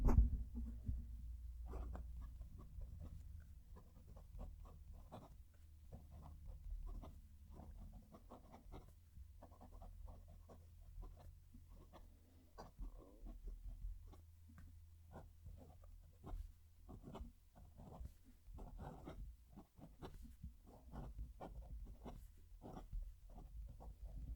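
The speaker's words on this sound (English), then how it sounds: "Going to move the mic down to the page so you can hear the pen write." A Wing Sung 698 fountain pen with a 14kt gold nib writing on paper, heard as a very quiet, close scratching with short irregular strokes and a low background hum.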